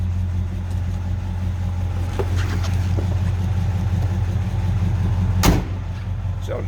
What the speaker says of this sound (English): See how nice that door closes and fits.